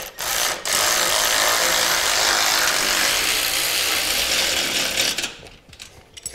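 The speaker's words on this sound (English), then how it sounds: "We want to tighten our bolts down evenly." Power tool driving and tightening the mounting bolts of a boat trailer jack, a loud continuous whirring buzz lasting about five seconds before winding down into fainter clicks.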